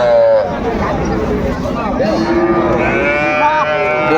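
Cattle low and moo at Raniganj cattle market in Dinajpur, where Friesian and Sahiwal bulls and heifer calves are sold; several drawn-out calls rise over a busy hubbub of voices and nearby talk.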